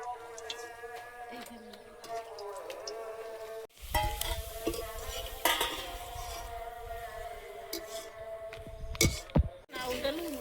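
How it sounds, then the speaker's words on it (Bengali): Papad frying in hot oil in a home kitchen, with a continuous sizzle mixed with clinks of utensils and pans, louder bursts after a brief cut, and a person talking under the cooking sounds. "2-4টা পাঁপড় ভেজে দেবো"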